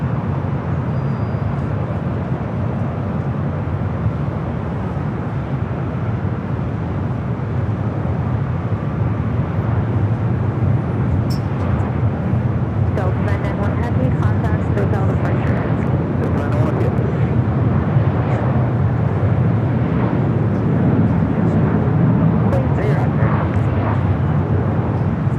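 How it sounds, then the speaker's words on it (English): An American Airlines Boeing 737-800 bound for Austin takes off from runway 25 right at LAX. A loud, sustained jet roar fills the whole stretch, with people talking over the engine noise. "This is American Airlines 2608 taking off to Austin on the 737-800."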